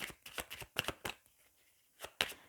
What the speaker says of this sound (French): j'aime bien mélanger un peu plus longtemps le tarot de Marseille